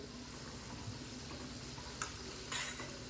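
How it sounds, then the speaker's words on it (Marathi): Khari puff pastries deep-fry in oil, making a soft, continuous sizzle with a couple of brief louder bursts of bubbling or stirring near the end. "अगदी या प्रकारेच आपल्याला ही सगळी खारी तळून घ्यायची आहे"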